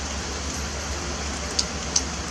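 Steady rain falls outdoors near a sheltering pavilion, a soft, even hiss throughout with a couple of sharper drop ticks near the end.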